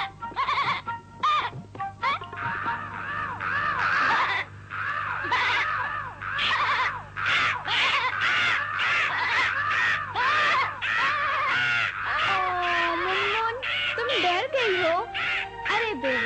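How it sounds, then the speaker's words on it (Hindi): Cartoon crows caw loudly and repeatedly in a steady, chattering stream, with animated character voices talking over and between the calls throughout. "मिट्टू तुम और मुनमुन मिलकर इन कव्वों का मुकाबला करो।"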